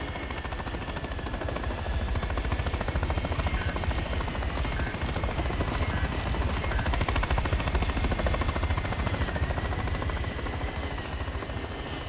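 Helicopters in the Call of Duty MW3 campaign produce a continuous loud rotor thrum with steady chopping pulses, joined midway by faint metallic clicks and rattles.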